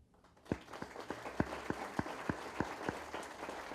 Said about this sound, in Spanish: deberíamos darle un voto de aplauso al Consejo Electoral por ese logro